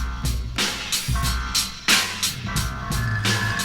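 A music demo run through a high shelving EQ filter boosting the highs, with bright, hissy cymbal-heavy drum hits in a steady beat and a crisp top end.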